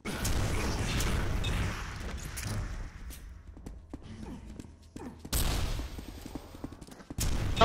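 In a Quake 4 duel, rockets are fired in sharp, booming blasts with metallic mechanical clanks, footsteps and loud explosions that come in dense clusters separated by quieter stretches.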